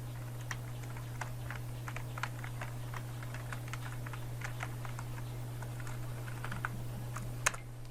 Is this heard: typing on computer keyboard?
yes